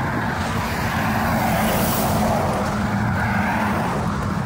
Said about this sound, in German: Die Autos fahren so nah an mir vorbei.